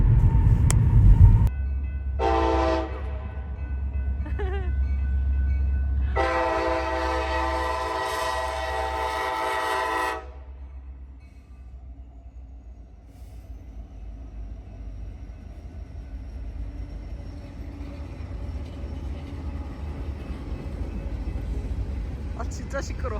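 Long freight train passing near downtown Davenport, Iowa, by the Mississippi River: two loud horn blasts, a brief one and then a longer sustained one, over a steady heavy rumble of rolling cars that continues for many seconds.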